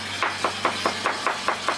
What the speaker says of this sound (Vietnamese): Chuẩn bị nấu thì mình bầm tỏi thử cho nó thơm nha.